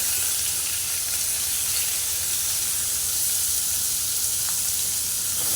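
Finely chopped onion and tomato sizzle loudly in hot oil in a pan for a Konkani-style crab curry, a steady close-up frying hiss that holds constant throughout with no voices.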